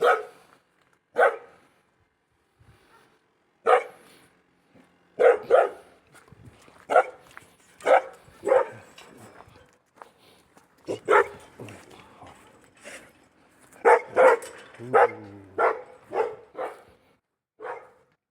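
Dogs bark in short, scattered bursts, some sharp and close, others fainter, with pauses between and a few yips mixed in.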